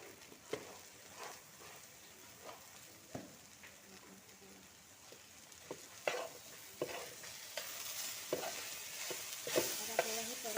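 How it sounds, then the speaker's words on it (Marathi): Okra stir-fried with salt in a pan over a wood-fired stove, a faint low sizzle with scattered spatula scrapes and taps that grow busier and louder toward the end. "आता आपल्याला हे परत परतून घ्यायचं आहे."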